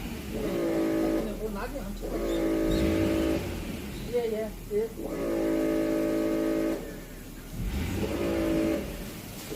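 The engine of a Renault Samsung SM7 car is revved repeatedly, giving several rising, droning bursts close by. A voice talks in the short lulls between the revs.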